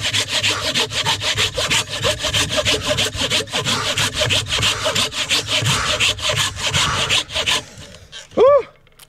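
A hand saw cuts through wood outdoors in steady, rapid back-and-forth strokes, loud and close with a rasping texture, stopping near the end before a brief rising whistle-like sound.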